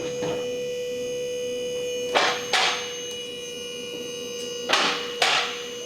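An electric impact wrench with a 19mm deep socket zips off a wheel hub bolt on a 2015 Ford Explorer, coming as two pairs of short, sharp rattling bursts over a steady electrical hum.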